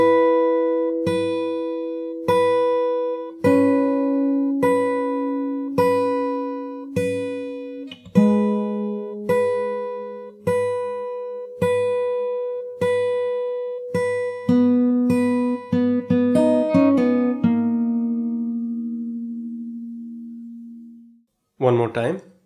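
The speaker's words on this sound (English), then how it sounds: "I'm going to play it very slowly from the start." Slow fingerstyle acoustic guitar intro of a song, plucked note by note in a steady, unhurried rhythm, ringing close and clear, quickening into a flurry near the end before fading into a brief pause and a final strum.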